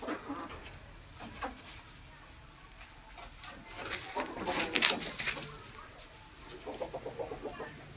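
Chickens on a farm squabble with sharp clucks and squawks that rise to a loud burst midway, mixed with outdoor noise and a faint voice.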